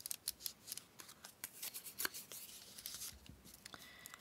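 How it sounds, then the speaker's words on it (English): Paper being torn along a straight edge ruler to make a ripped edge, a rapid series of close, crisp tearing and rustling bursts with no talk. "I'm just going to get a ripped edge like that."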